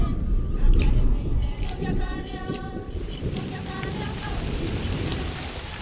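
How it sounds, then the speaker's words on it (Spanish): Heavy rain pours down on a parched savanna beneath towering storm clouds, a dense steady hiss with a low rumble early on, continuing without letup. "Grandes cúmulos se forman sobre la sabana reseca y con 3 años de retraso descargan por fin la lluvia."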